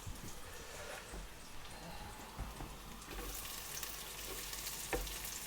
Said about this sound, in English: So I'll chuck in the cabbage.